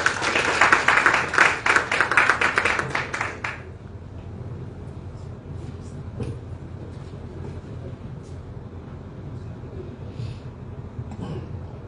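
Audience applause at a ceremony in Senegal's national theatre, a lively burst of many hands clapping for about three seconds before cutting off into a quiet, murmuring hall with a few stray claps.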